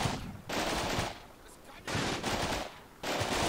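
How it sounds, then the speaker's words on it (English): Bursts of automatic gunfire from units in a war video game, coming in three or four loud, sustained volleys separated by brief pauses, with no speech over them. "They're going to just automatically spot enemy units and start shooting."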